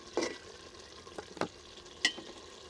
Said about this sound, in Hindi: थोड़ी देर के लिए इसे भूनेंगे